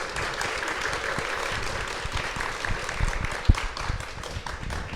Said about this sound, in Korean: 소개해 주신 네 분께 박수 한번 드릴까요?